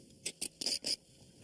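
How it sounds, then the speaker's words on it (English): Sand scraped off desert-baked Berber bread: four or five short, quiet rasping strokes in quick succession, a gritty brushing texture alone with no voices. "That's the sound of sand being scraped off my lunch."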